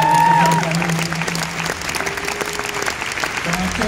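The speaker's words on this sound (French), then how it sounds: "Et j'aimerais vous demander d'applaudir Christine et François Raymond" An audience at a conference event applauds, a steady wash of clapping from a large crowd, with a few faint voices mixed in.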